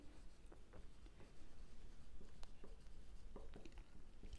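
A pen scratches across paper in short, quiet strokes and taps while working a class 10 maths statistics problem, close and faint with no talking over it.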